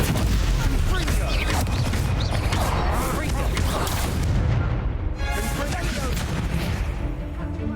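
An explosive Confringo spell cast in Hogwarts Legacy, a loud, dense blast within nonstop combat noise, with rumbling booms and crackling debris filling the whole stretch.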